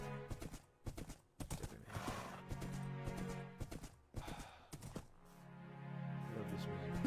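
Horse hooves clip-clopping in steady rhythm with a neigh partway through, in-game sounds from Minecraft over music, fairly loud and close.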